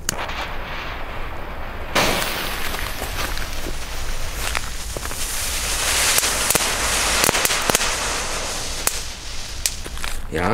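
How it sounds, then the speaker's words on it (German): Knistertüten, small crackling firework bags from a NORMA youth fireworks set, go off in a dense, continuous run of sharp pops and snaps. The crackling is close and loud, with brief voices in the background. "Fangen wir mal an mit diesen Knistertüten."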